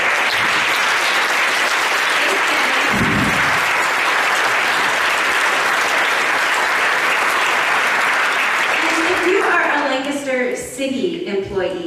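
An audience at a Lancaster City Council meeting breaks into loud, sustained applause that fills the room for about nine seconds, then fades as voices and talking take over.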